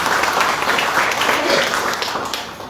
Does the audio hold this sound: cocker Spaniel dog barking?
no